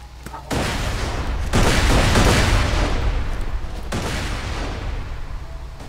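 A grenade going off in Borderlands 2, with sharp blasts and bursts of gunfire-like cracks landing in separate loud hits, followed by a rolling, sustained roar of battle noise.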